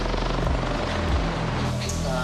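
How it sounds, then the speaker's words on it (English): Westpac rescue helicopter flying over Bondi Beach during a search, loud close rotor thumping and engine drone held steady throughout. "The Westpac rescue chopper joins in."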